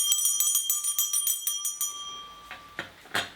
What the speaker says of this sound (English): bells here, this one and this one, which have got, they're probably not a pair